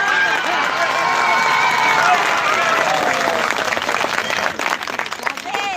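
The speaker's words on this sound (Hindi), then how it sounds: "इतनी कमजोर तालियां में नहीं पढ़ पाता।" A rally crowd claps and cheers in sustained applause with crowd noise, loud and continuous, thinning toward the end as a voice begins to come through.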